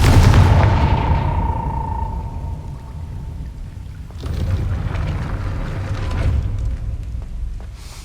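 A Confringo fire spell in Hogwarts Legacy goes off as a loud, booming blast that fades over a couple of seconds, followed by a second rumbling burst, with no talk.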